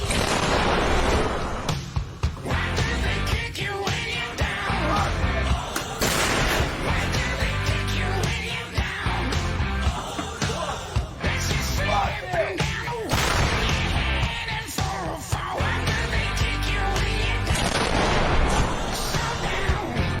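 Ukrainian self-propelled howitzer firing: heavy booms and sharp blasts recur throughout inside a dense, loud wall of continuous noise.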